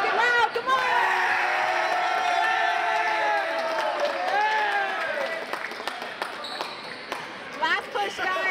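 A high school basketball crowd and cheer squad cheering in the stands, with shouts, whoops and a bouncing ball over a loud, continuous roar of voices that fades toward the end.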